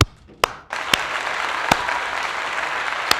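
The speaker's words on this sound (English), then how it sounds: "So round of applause for that." A studio audience at a talk show breaks into steady applause after a brief lull, with a few sharp isolated claps standing out near the start and end, continuous and fairly loud, no voices over it.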